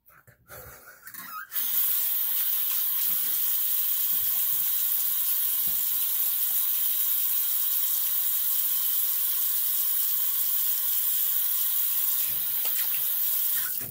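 Water runs steadily from a tap while a razor is rinsed, a constant loud hissing rush that starts after a brief clatter and carries on unbroken to the end.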